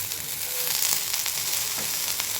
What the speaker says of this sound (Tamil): 2 தலையுமே சேர்த்துட்டு நம்ம இதை வதக்கிக்கிடுவோம்